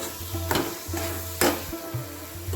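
Coconut and jaggery mixture for narkel naru being stirred in a pan, a steady scraping and soft sizzle with two sharper scrapes standing out, close and alone with no talk.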